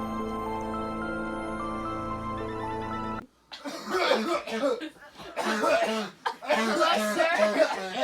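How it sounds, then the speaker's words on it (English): A person coughs several times in short, close bursts, with speech around the coughs. "You seem to be coughing a lot."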